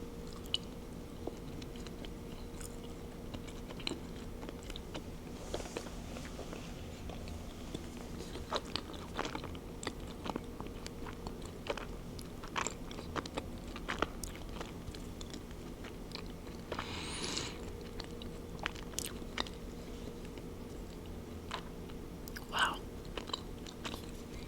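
Soft, close biting and chewing of food during an asmr mukbang on an animal-based diet, crunchy and squishy mouth sounds recurring steadily over a quiet background hum.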